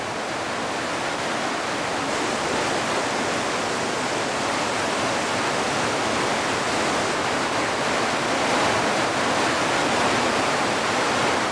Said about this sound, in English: Trickles become torrents.